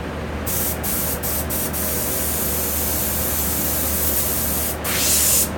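An airbrush sprays paint in a steady loud hiss, broken by a few brief pauses and a stronger burst near the end.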